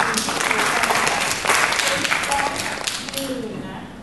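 An audience applauding a doctor during a talk show, giving a dense, sustained round of clapping that gradually fades, with a voice speaking faintly underneath.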